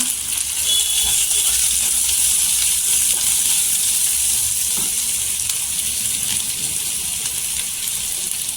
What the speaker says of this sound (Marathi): वाटाणे छान असं तेलावर परतून घ्यायचं इथे वाटाणं टाकलेले आहेत आणि इथे हळदी पावडर टाकलेली आहे